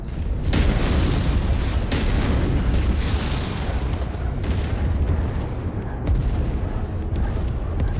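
An anti-aircraft turret pounds a wall in the MechWarrior 5 video game, producing a loud, continuous barrage of booming blasts and rumbling impacts with no pauses.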